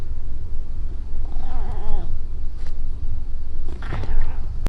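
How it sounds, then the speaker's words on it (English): A cat lets out grumbly, wavering meows, two drawn-out complaining calls separated by a pause, heard close up over a noisy background. "Grumbly meows."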